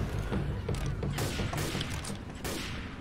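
Several guns fire in Left 4 Dead 2, a busy stream of shots and bangs overlapping in rapid volleys, loud and close with a thick low rumble underneath.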